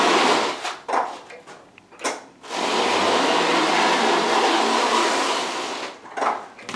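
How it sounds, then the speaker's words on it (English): Frontier V6 off-road power chair rolling on big fat air tires makes a loud, steady whirring roar for several seconds, framed by shorter bursts of motor and tire noise at the start and end. "Now the noise you're hearing is because of those big fat air tires."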